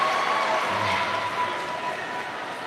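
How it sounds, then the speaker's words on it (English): A VidCon panel audience applauds and cheers in a steady, broad wash of clapping and voices that carries on through the whole stretch. "And the crowd is cheering."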